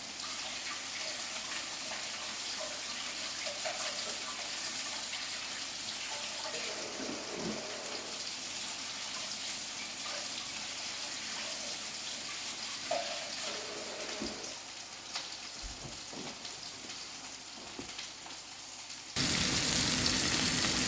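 Ground beef burger patties frying in a pan on medium-high heat, a steady close hiss and sizzle that runs unbroken, with a few faint clinks and no talking.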